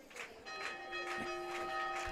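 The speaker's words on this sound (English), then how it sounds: "as they ring the bell once again" A bell rings after a touchdown at a high school varsity football game, Hicksville versus Patrick Henry. Its bright, sustained tone is struck again and again in a quick, steady rhythm over a faint crowd murmur.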